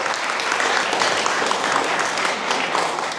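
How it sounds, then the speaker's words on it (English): An indoor audience at a women's panel event applauds, with dense, steady clapping from many hands throughout, loud and close. "Can we all give ourselves a round of applause?"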